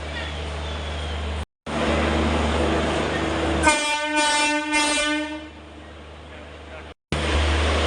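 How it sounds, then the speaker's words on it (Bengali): The Puri Duronto Express pulls into Sealdah station with a low rumble, then gives a long, loud horn blast before the engine noise settles. "আমাদের ট্রেন কিন্তু এখন ঢুকছে"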